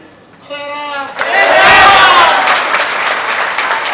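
An audience at a religious discourse gathering breaks into loud, sustained applause and crowd noise, opening with a brief raised voice before the dense clapping swells and carries on to the end.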